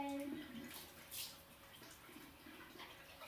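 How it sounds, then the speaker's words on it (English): Water runs over seamoss in a strainer at a kitchen sink, a soft steady splashing and trickling rinse that stays quiet throughout, with a few faint brighter splashes. "So as I rinse,"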